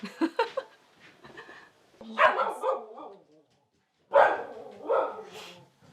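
A dog gives several sharp barks in separate bursts with short silent gaps between them, close and fairly loud.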